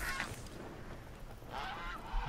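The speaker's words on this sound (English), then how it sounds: "Geese." Geese honk in two short bursts, quiet and somewhat distant, separated by a brief lull, in the video game Horizon Zero Dawn.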